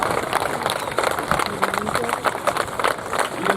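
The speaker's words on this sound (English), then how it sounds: "Why don't we give a big round of applause?" Audience applause at the global premiere event for the new DeLorean car, a dense, steady wash of many hands clapping for several seconds with crowd noise mixed in.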